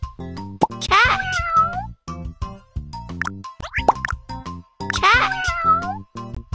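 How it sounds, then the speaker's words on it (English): Two clear cat meows sound a few seconds apart, each bright and drawn-out, set among bouncy, plucky musical tones. "Cat."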